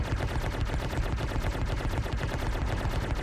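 Ship turret gunfire in Star Citizen, rapid continuous automatic firing with a dense, even rhythm that stays loud and unbroken throughout, no talk over it.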